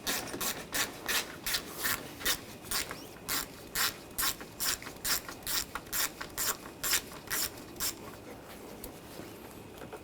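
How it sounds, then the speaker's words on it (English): Ratchet wrench with a 10mm socket loosens bolts on a 2013-2022 Buick Encore during AC condenser removal, clicking in a steady, rapid rhythm of repeated strokes, close up and moderately loud. "Using a 10mm socket, we're going to take these bolts out."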